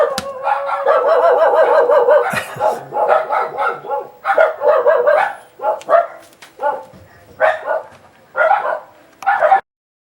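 Several dogs bark in loud, close bursts, starting with a steady run of yapping and then breaking into separate barks and yips of varying length, with no talking over them.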